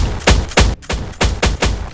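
A shotgun in Roblox Jailbreak fires six loud, close blasts in a quick, fairly even rhythm, each a sharp punchy boom, with a brief gap after the second.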